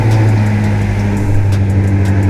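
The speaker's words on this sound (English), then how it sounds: "now that we finished the oil change, we're gonna start her up" A BMW F90 M5 that has just had an oil change runs steadily after starting, making a loud, continuous low engine drone with a strong deep hum and some lighter ticking on top.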